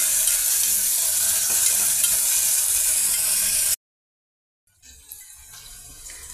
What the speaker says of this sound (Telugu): బంగాళదుంపలు, పచ్చిమిర్చి, అల్లం చిన్నులపాయల పేస్టు, పెద్దలిపాయ, లవంగాలు, దాల్చిన చెక్క అన్నీ ఈ విధంగా ఆయిల్లో ఫ్రై అవుతున్నాయండి